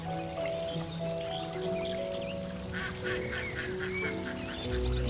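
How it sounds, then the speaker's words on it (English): Ducklings and other waterfowl in Paris give repeated high, quick peeping calls in short bursts over a low background hum, fairly faint and steady, with a brief louder clatter at the end. "Such brave ducklings."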